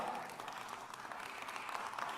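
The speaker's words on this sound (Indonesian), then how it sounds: "Kecewa loh, tepuk tangannya begini." Applause from a church congregation, a steady, modest patter of many hands clapping with a slightly subdued, unenthusiastic feel, filling the whole stretch at moderate level.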